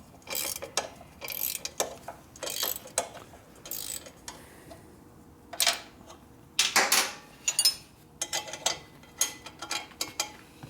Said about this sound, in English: Can't get into the ratchet. Oh, made it.